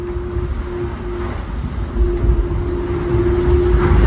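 A boat under way at about 17 knots, with a steady rush of water and wind noise and a constant low engine hum. The sound grows slightly louder partway through, and no voices are heard.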